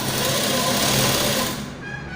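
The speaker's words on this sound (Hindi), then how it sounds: "यहाँ से सिलाई लगाएंगे।" A sewing machine stitching a garment runs steadily at a fast, even whir, close and continuous, then eases off near the end.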